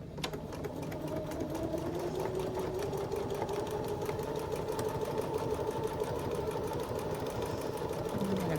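A sewing machine stitching a lavender sachet hums in a steady rapid whir with a fine mechanical ticking, close and continuous throughout.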